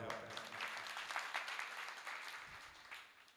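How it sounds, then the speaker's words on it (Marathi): A crowd at a public gathering claps steadily for a few seconds for a women's bhajan group, a dense patter of applause that gradually fades, with faint voices mixed in. "महिला भजनी मंडळीसाठी एकदा टाळ्या वाजवा"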